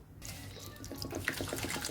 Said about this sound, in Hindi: तो थोड़ा सा पानी डालेंगे।